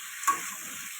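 Fried potato and taro are stirred into oily spice paste in a pan, with a faint, brief sizzle and one soft scrape of the spoon.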